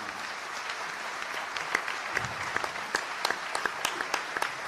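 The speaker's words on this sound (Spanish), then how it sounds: "Bien se lo merece el aplauso" An audience at a legal talk applauds steadily at moderate volume, the clapping dense and continuous with a few sharper individual claps standing out.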